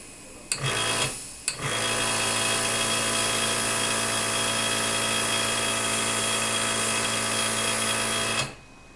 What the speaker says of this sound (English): With the bleed valve open, the auto stop feature will be inoperative due to the constant air release